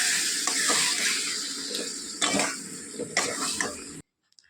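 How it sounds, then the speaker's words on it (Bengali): Lemon-marinated chicken, with its released juices, goes into frying masala in a pan, giving a steady close sizzle broken by a few scraping stirs and utensil clinks before it cuts off. "এবার যে চিকেনটাকে আমি লেবু দিয়ে ম্যারিনেট করে রেখেছি, সেই চিকেনটা এর মধ্যে পুরো জল সমেত দিয়ে দেবো।"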